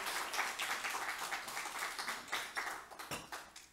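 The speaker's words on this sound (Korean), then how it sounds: "박수 한번 하도록 하겠습니다." A church congregation at a youth missions event gives a faint, rhythmic round of applause that sounds distant and fills the whole moment without talk.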